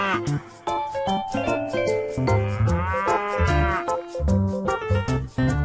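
A buffalo bellows in loud, drawn-out lowing calls, several overlapping moans rising and falling close at hand, with bright tinkling accents between them.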